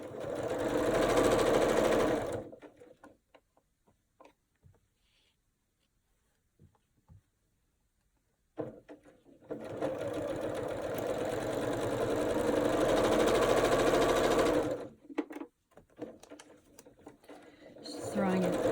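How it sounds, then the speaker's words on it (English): A sewing machine stitches a quilt block in two steady runs of fast mechanical whirring, separated by a quiet pause with small handling clicks; close and fairly loud, with no talking heard. "And now I can sew the rest of the block on."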